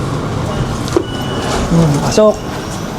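Train at a station on a trip to the Louvre in Paris, with a sliding door shutting and brief rumbling and beeps close by while a voice speaks over it.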